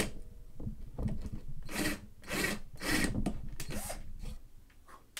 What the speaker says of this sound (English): that was just drilling a hole